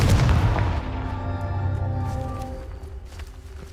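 A Confringo fire spell blast in Hogwarts Legacy, a single heavy booming explosion that hits hard at the start and then rumbles and rings out over a few seconds, loud and close with no talk over it.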